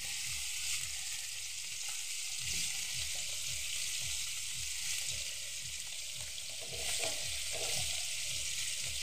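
Eggplant slices being laid in a pan fry with a constant, even sizzling hiss that runs steadily throughout, over a faint low rhythmic hum, with no talking.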